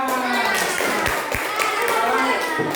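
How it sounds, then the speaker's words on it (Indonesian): Children in a classroom clap their hands under a teacher's voice and kids' chatter, with a couple of sharp claps standing out amid the busy talk. "Tepuk tangan."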